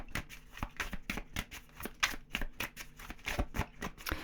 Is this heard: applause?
no